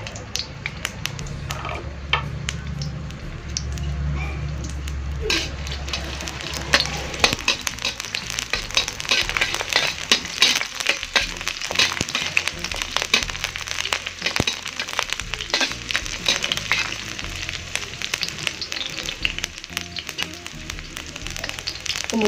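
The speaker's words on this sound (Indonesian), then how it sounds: "Kita panaskan minyak untuk menumis. Masukkan bawangnya." Onions sautéing in hot oil in a pan for an Acehnese fish-in-coconut-milk stir-fry, a steady crackling sizzle with scattered sharp pops, a louder low rumble in the opening seconds, no talk.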